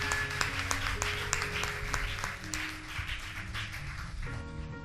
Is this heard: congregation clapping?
yes